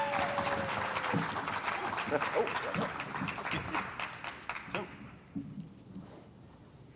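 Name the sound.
audience applause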